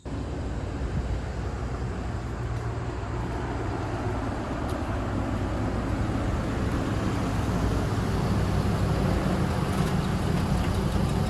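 Chevrolet Colorado pickup truck, 2005–2012 generation, on a test drive after an outer tie rod replacement. Steady engine and road rumble is heard from inside the cab at a constant moderate level, with no talking.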